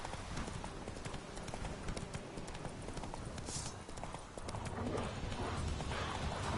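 A horse gallops in The Witcher 3 video game with steady, rapid clip-clop hoofbeats, continuous and close, over a dense wash of game ambience.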